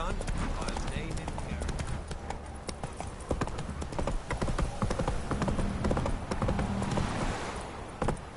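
Hooves of the horse Roach galloping in a video game, a steady clip-clop rhythm running throughout, with a voice speaking over it.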